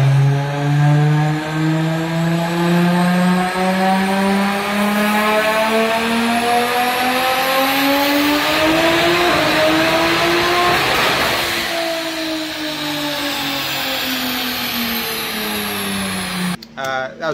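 A fully built BMW 335 N54 engine with a JMC 1320 single-turbo kit and G40-1150 turbo screams through a long dyno pull on a Dynojet, pitch climbing steadily to a peak, then backing off and settling.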